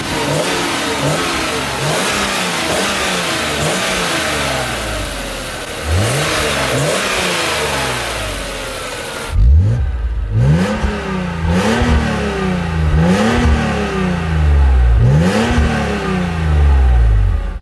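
BMW Z3 M roadster engine with individual throttle bodies, revved repeatedly from idle in sharp rising blips that fall back between pulls, loud and close with no voices.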